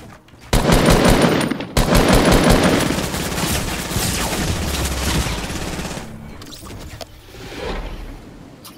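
Fortnite gunfire plays as a dense, loud stream of rapid automatic shots that fills the opening seconds, then eases into scattered, quieter shooting, with no talk over it.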